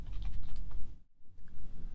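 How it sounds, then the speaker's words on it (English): Quiet, close typing on a computer keyboard, a quick run of soft key clicks that breaks off briefly and then resumes, with no voices. "Start off by typing in a URL unique to our company,"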